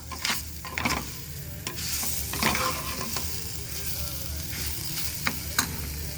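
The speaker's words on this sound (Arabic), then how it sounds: "تتشوح شويه كده في لسان العصفور ماشي" Orzo pasta sautés in a pan with a steady sizzle, broken by the clatter and scrape of repeated stirring, close up and without speech.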